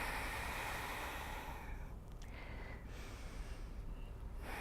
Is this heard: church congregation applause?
no